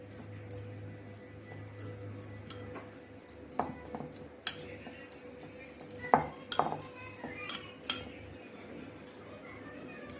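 Coriander being stirred into a melted garlic bread topping in a small bowl, with a spoon giving scattered light clinks and scrapes against the dish, some close and sharp, others soft.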